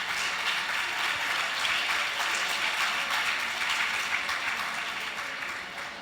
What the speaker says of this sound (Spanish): Démosle un aplauso a esta gente porque no tiene Facebook.